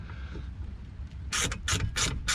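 A 1/4 inch hand ratchet drives screws into sawhorse lumber, giving four close, loud bursts of rapid clicking in a steady rhythm after a quieter, murky start.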